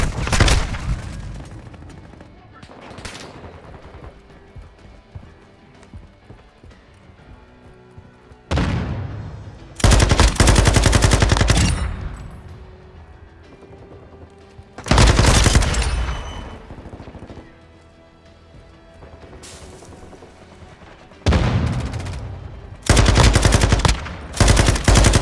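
Loud bursts of automatic gunfire from Call of Duty MW2 multiplayer come in several sustained volleys separated by quieter stretches, with thumping impacts and sporadic single shots in between.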